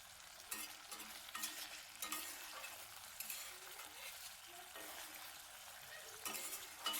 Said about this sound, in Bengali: সব কিছু দিয়ে দিয়েছি। এবার এটাকে কিছুক্ষণ ফুটিয়ে নেব।